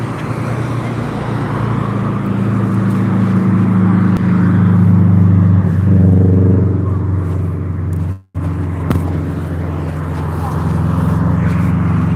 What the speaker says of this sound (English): Another knobhead car.